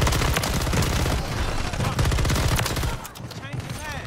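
Sustained rapid automatic fire from a RAM-9 submachine gun in Modern Warfare 3, a loud, continuous stream of shots for several seconds before tapering, with a voice talking faintly underneath.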